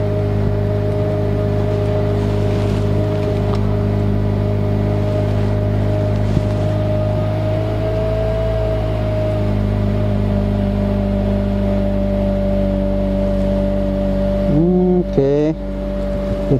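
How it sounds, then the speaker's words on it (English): A 2008-2012 Honda Accord engine idles high with an idle air control valve and throttle body relearn issue, giving a loud, close, steady drone with a constant pitch throughout and a brief shifting sound near the end. "Now, let's start the car. Let's see if it goes"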